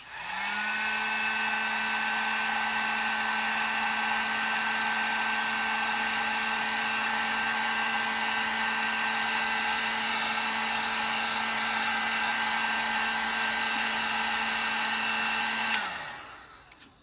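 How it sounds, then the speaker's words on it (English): A heat gun shrinking tubing over a wire splice for Jeep TJ LED fog lights, running as a steady loud whining blow for about sixteen seconds before switching off and winding down. "I use a heat gun."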